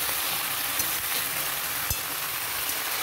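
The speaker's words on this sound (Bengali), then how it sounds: "এবারে ভালো মতো নাড়াচাড়া করে নেব।" Mixed vegetables are stirred as they fry in a pan, giving a steady close sizzle with soft scraping from the spoon and one small clatter.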